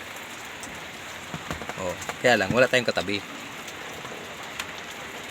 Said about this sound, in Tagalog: Talaga pag malakas ang ulan